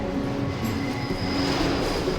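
A train in Deus Ex: Revision, a continuous rumbling rail roar with steady metallic tonal whines over it, moderately loud and unbroken for a couple of seconds, with no one speaking.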